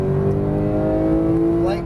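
A Porsche 991 GT3 on a track course pulls under throttle, its engine note a steady rising harmonic drone, loud and close from inside the cabin, tapering slightly at the end.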